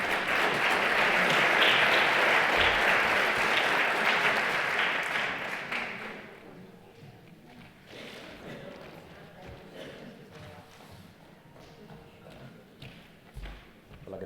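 Loud audience applause at a public rally in defence of Spanish public broadcaster RTVE, a dense sustained roar for about six seconds that then thins into scattered claps under a speaker's voice.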